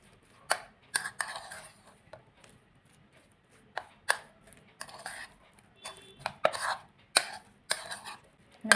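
Egg sandwich filling being stirred with mayonnaise in a bowl, irregular scraping and tapping knocks of a utensil, close and intermittent with quiet gaps between.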